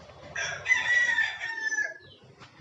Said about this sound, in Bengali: মুরগি দেখুন